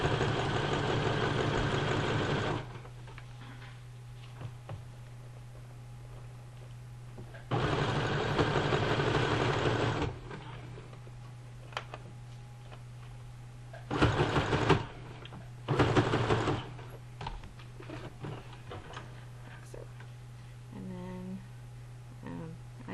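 Sewing machine stitching elastic onto a cloth diaper, running in several loud bursts of rapid motor whir separated by quiet gaps with a steady low hum, plus small handling clicks toward the end.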